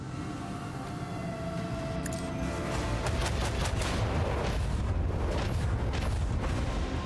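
Ship battery artillery fire in Warhammer 40,000: Rogue Trader, a rising roar of heavy booming volleys with rapid repeated blasts building midway and rumbling on to the end.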